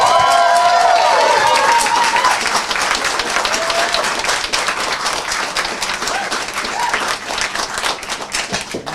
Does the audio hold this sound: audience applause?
yes